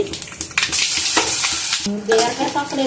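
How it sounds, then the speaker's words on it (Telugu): Ground ridge gourd peel chutney dropped into hot oil tempering with curry leaves, a loud burst of sizzling followed by stirring and scraping in the pan, close up. "బీరకాయ తొక్కు ఇది ఇప్పుడు ఈ పోపులో వేసేసుకోవాలండి"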